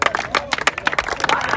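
Audience clapping after the U15 nationals finals game, a short burst of loud, uneven claps close by with voices mixed in.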